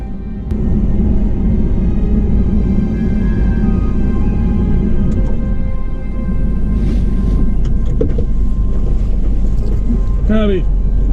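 A car rolls slowly through a desert campground in Death Valley, a steady low engine and road rumble mixed with wind buffeting, a few faint clicks and a brief squeak near the end.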